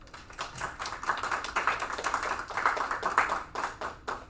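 A handful of people clapping at a school district board meeting, the sparse, uneven claps fairly quiet and close, sounding like a small room rather than a big crowd.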